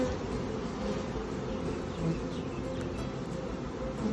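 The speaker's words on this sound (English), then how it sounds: "Sometimes you just got to shake the bees down so you can get them back in there." Honey bees buzzing in a dense, continuous drone after being shaken from the hive frame, close and steady throughout, with no voices over the swarm.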